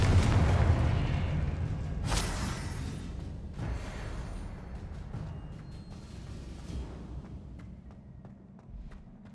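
A Confringo fire spell blast in the Hogwarts Legacy video game: a loud booming explosion up front, then further rumbling bursts and crackling debris that fade over several seconds.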